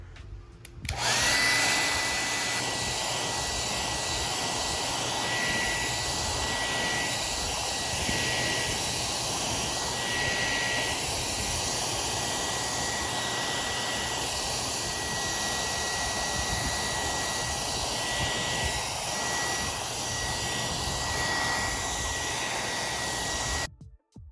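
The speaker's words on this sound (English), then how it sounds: "I still have my hair dryer, so it's still plugged in. And let's try to heat this up" A hair dryer blows steady and loud for about twenty seconds, drying water-soaked AirPods Max headphones, its broadband whoosh holding constant from start to finish with no talking over it.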